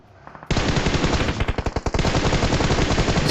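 Automatic gunfire in the mobile battle royale game PUBG Mobile, a loud sustained burst of rapid rattling shots that starts abruptly and runs continuously, with distinct individual reports audible midway and no talking over it.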